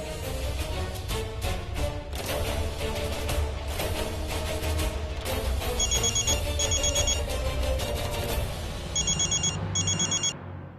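A telephone rings in a home during a Bhojpuri TV drama, its repeated bell bursts coming in pairs over a loud, continuous music score.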